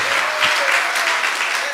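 A church congregation bursts into brief, loud applause during a Spanish-language service, a dense wash of many hands clapping at once.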